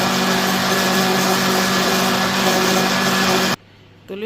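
A loud blender whirs steadily for several seconds mixing ube corn flan ingredients, then cuts off abruptly, leaving a quiet moment before a brief restart.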